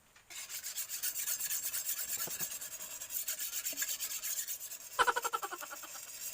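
A file is rasped back and forth across a sickle blade in quick, even strokes, a close, gritty scraping rhythm that keeps going, with one sharper clink partway through.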